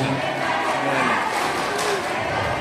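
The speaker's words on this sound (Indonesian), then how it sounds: "Aplaus untuk Kabupaten Kediri" A seated audience at a presentation event bursts into continuous crowd noise and cheering for the Kediri regency presenters, a dense steady roar filling the whole moment with voices mixed in.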